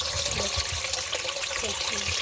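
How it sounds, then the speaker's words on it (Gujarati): Water pours steadily into a bucket, a continuous close splashing and gurgling rush, with a voice talking faintly beneath it. "પાણી ડોલ ભરાય છે"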